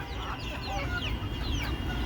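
Native laying hens about 90 days old cluck and chatter in a busy flock at close range, with high rising calls over a low rumbling background.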